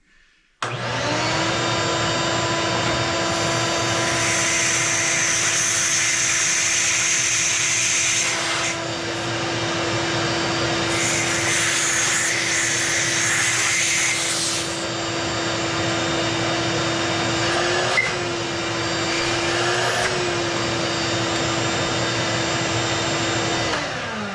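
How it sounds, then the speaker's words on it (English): A shop vac sucks debris out of a deep spot, giving a loud, continuous motor roar with a steady whine; its airflow tone shifts as material is pulled through and the nozzle moves. "I use the shop vac to just get some of it dislodged from real far down in there"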